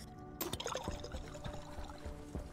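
Water refilling in the space survival game Stationeers, a faint burbling pour with small splashy trickles and a few soft clunks, running steadily for a couple of seconds with no talk.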